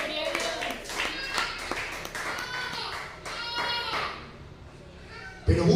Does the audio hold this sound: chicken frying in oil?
no